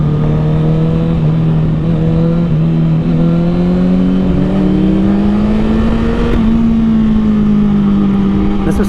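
A Honda CBR1000RR Repsol Edition motorcycle with a Taylormade exhaust and a fairly quiet tone, its engine holding a loud, steady hum that rises gently in pitch as it revs.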